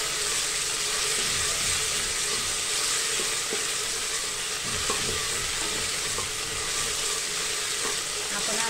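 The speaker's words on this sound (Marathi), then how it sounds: "हा कांदा आता चांगला लालसर होईपर्यंत परतायचा आहे" Onions sauté in a pan until reddish for a Satara-style mutton dish, giving a steady, close sizzle and crackle with no talk over it.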